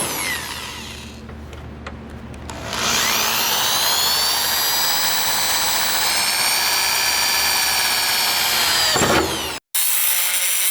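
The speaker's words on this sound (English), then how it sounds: "Now I'm gonna just be drilling all these holes out." A power drill bores hood pin holes in a Mazdaspeed 6. Its loud, close whine runs steadily for about seven seconds with the pitch rising and falling slightly, then cuts off abruptly.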